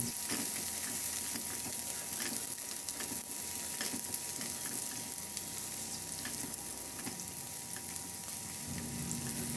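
Garlic and onions sauté in a pan, giving a steady close sizzle and crackle of frying with occasional stirring scrapes, no voices over it.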